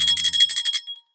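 A bright metallic bell rings rapidly in a quick, even shake for under a second, then stops abruptly, loud and close.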